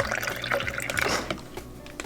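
Water poured from a tap into a bowl holding a dozen cracked eggs, a close, bubbly trickle with small splashes that fades slightly toward the end; no talk.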